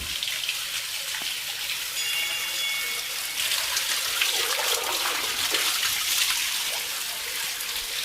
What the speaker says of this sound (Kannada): ಬಸವನ ಬಾಯಲ್ಲಿ ನೀರು ಬರುತ್ತೆ ತೀರ್ಥ